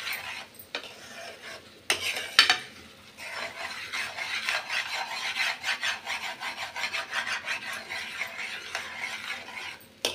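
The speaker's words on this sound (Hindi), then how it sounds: "तो साथ साथ में ऐसे मिलाते रहिए मसाले के साथ।" Spatula scraping and stirring egg bhurji with spices in a pan, a continuous raspy rhythmic scrape with a few sharper clanks early on, close and fairly loud, with no talk.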